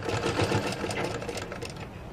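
A sewing machine runs steadily while stitching a patchwork blouse, giving a close, continuous mechanical whir with a fast rhythmic stitch pulse and no talking.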